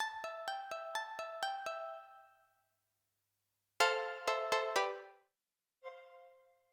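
A default patch on the Arturia DX7 software synthesizer plays bright electric-piano-like tones: a quick run of seven struck notes that ring out and decay, a pause, then four more notes, and finally one softer, isolated tone.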